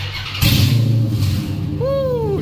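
A Dodge Challenger engine with its resonators removed revs loudly up close, a deep rumbling roar that builds quickly and then holds while the pitch sweeps and settles.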